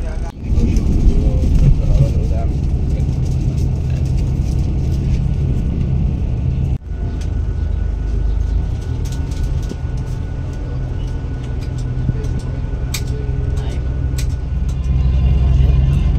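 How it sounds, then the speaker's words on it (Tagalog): Interior of a Genesis passenger bus pulling away on a trip toward Baguio: a steady, loud low engine rumble and road drone fill the cabin throughout, with a brief jolt partway and faint chatter and rattles above. "Dito na nga tayo sa loob ng bus at antay na lang tayo."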